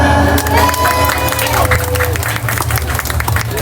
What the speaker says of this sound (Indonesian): Yang mau lagi tepuk tangan